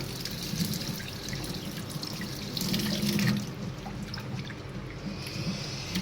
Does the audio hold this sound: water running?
yes